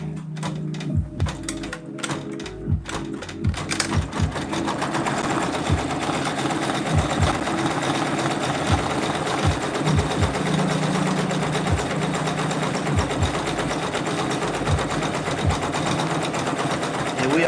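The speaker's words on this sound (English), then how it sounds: "we are using the Brother Persona, also known as the Brother PRS100" A Brother Persona PRS100 embroidery machine stitches a patch on stiff fabric backed with cutaway stabilizer, a rapid, steady mechanical clatter that starts after a few scattered taps and continues close and even to the end.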